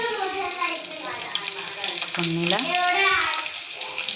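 Garlic added to frying onions for jackfruit curry, a loud crackling sizzle over low heat, with a voice talking over it throughout.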